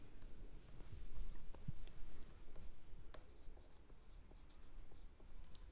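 Chalk or a marker scratches across a board in short strokes as a maths lecture proceeds, faint and steady, with light taps between strokes and no voices.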